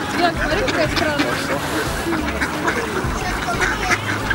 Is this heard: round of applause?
no